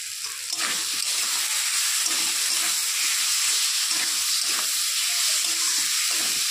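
Spice paste sizzles and fries steadily in a pan while tilapia kalia is cooked. The hiss is continuous and moderately loud, with faint stirring and no voices.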